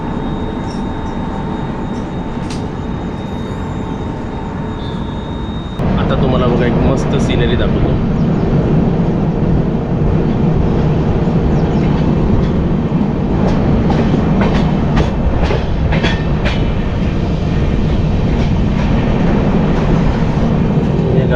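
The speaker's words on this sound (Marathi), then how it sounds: "तर ही ट्रेन बघा किती सुंदर आहे." A passenger train bound for Ratnagiri rumbles steadily nearby, its engine drone growing louder partway through, with rhythmic wheel clicks over the rails and someone talking over the noise.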